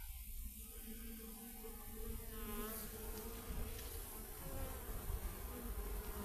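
Honey bees buzz steadily at an open hive full of worker brood, a dense, close, continuous drone with individual bees whining past, and no voices.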